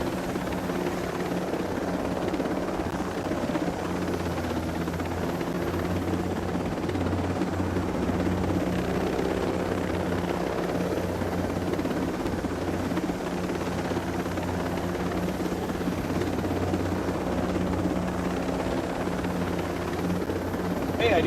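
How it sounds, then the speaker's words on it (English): Steady helicopter rotor drone with a low thumping hum, continuous and fairly close, from a helicopter in flight in Tom Clancy's Ghost Recon Breakpoint. "This live stream so far is just a tour of me in a helicopter flying over the area."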